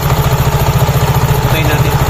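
A Honda PCX 160 scooter fitted with a Griffin 180i modified CVT pulley set, its engine running with a steady pulsing throb, close and loud, with the revs held high.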